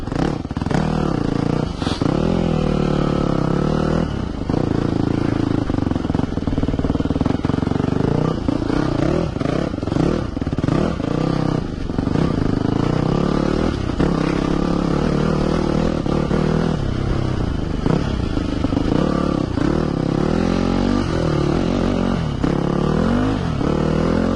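A Yamaha YZ250F four-stroke motocross bike rides a dirt cross track, its engine revving up and down in repeated surges with rattling clatter, close and loud throughout.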